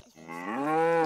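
A single drawn-out cow moo from the rhythm video game Headbangers: Rhythm Royale, loud and close, rising then holding a rich tone for about a second, with no talk.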